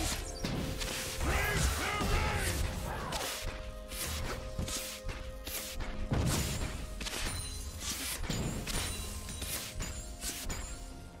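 A turret is destroyed in a top-lane League of Legends match, a run of sharp smashing and whooshing impacts over steady game ambience, without speech.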